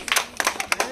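An audience claps in quick, uneven bursts during a lively glass-stacking game played by a grandmother, several close, crisp claps packed into under a second.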